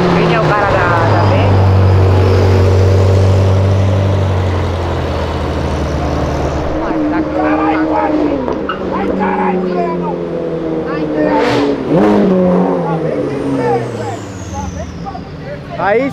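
Ferrari and Lamborghini supercars accelerate hard along Avenida Europa, their loud engine drone climbing in pitch through several rising sweeps, with people talking excitedly over the noise.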